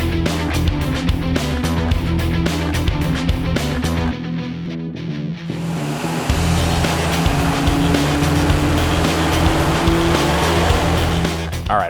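Small block V8 car roaring loud and steady on a chassis dyno during a test pull, revs climbing with a brief dip in the middle before the engine pulls hard again to the end.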